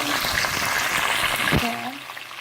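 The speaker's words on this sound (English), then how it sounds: "so I have my hot oil right here. So I'm just gonna put in everything inside." Ingredients for ackee and saltfish dropped into hot oil set off a loud, steady sizzle that fills the whole moment, with a brief clatter partway through and low talk underneath.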